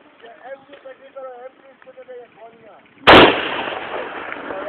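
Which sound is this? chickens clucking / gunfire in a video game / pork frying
gunfire in a video game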